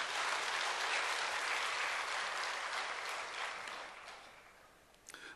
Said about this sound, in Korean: 주님께 영광의 박수를 돌려드립니다.